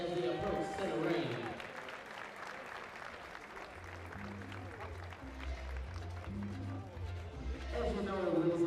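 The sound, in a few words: audience applause for boxers approaching center ring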